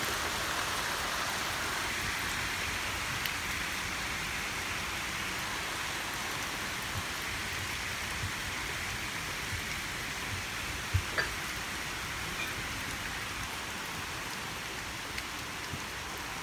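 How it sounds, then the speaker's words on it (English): Steady cold rain pours during an October storm, a dense unbroken hiss of drops on surfaces lasting throughout, with a faint isolated tap or two partway through and no voices. "that's a cold rain, Bubba."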